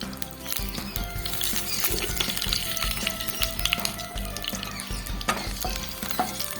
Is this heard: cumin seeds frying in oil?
yes